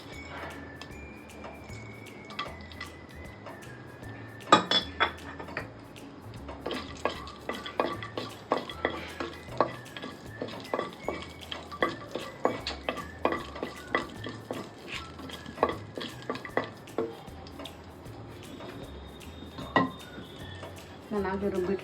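Spices stirred in a little hot oil inside a pressure cooker for chicken curry: a soft sizzle runs underneath while a spoon scrapes and clinks against the metal pot in rapid, irregular taps, with a voice talking over it.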